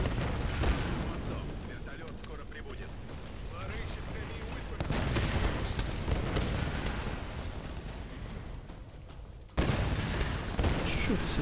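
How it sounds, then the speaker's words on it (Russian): Explosions in the video game Tomb Raider 2013: loud, dense rumbling blasts with heavy low booms, fresh bursts hitting near the start, around the middle and again near the end, each trailing into sustained roaring debris noise. "Взрывается."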